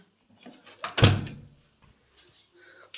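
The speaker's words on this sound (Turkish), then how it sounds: "Kapıyı kapatalım da ses gelmesin bize de." A door closes in a home with a single solid thunk, preceded by soft handling rustles and followed by faint quiet sounds, heard close and alone.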